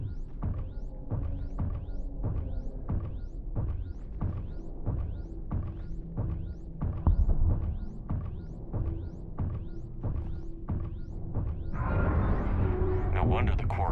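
A damaged pipe in the vacuum of space in the Mass Effect 3 video game gives off a steady, muffled rhythmic throbbing, with regular pulses repeating about twice a second over a low hum, while a voice talks faintly.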